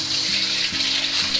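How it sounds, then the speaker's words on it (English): Velvetized chicken pieces cook in oil in a wok with a steady, loud close-up sizzle and crackle, a continuous frying hiss with no talk. "I separated it because I want to put the chicken in first."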